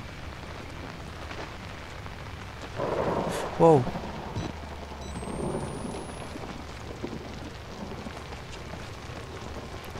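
Steady rain falls with a rolling rumble of thunder in the horror video game Outlast, a continuous outdoor downpour with one louder swell midway, as a player briefly exclaims over it.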